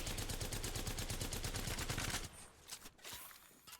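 Rapid automatic gunfire in the Apex Legends video game, a dense sustained burst of closely spaced shots lasting about two seconds before cutting off, followed by a few faint scattered sounds.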